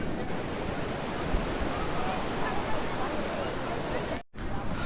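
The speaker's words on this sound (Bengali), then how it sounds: "সমুদ্রের একদম সামনে দাঁড়িয়ে আছি" Sea waves at Swargadwar beach in Puri make a broad, steady roar of surf that fills the whole stretch, with a brief dropout near the end and faint crowd murmur blended in.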